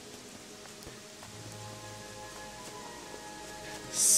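Soft, steady rain falls inside a cave in the Gothic 3 video game, a quiet, even patter with faint background tones and no voices.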